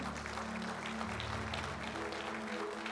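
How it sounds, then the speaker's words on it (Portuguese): A church congregation applauds the Lord in a steady, continuous wash of clapping under low sustained musical tones, with faint voices mixed in. "pode aplaudir o Senhor?"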